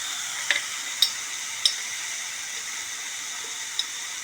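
Spinach sautéing in a pan, a steady soft sizzle with a few sharp clicks of a spoon stirring against the pan.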